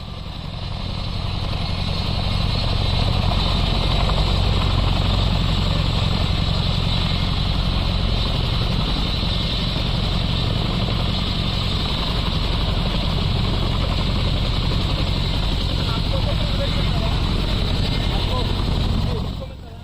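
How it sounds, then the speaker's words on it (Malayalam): Indian Air Force Chinook twin-rotor helicopter flying in to land, a loud, continuous droning roar of engines and rotors that holds steady at close range before cutting off abruptly. "അകലിൽ നിന്ന് വലിയ ശബ്ദത്തോടെ ചീനൂക്ക് പറന്നെത്തി"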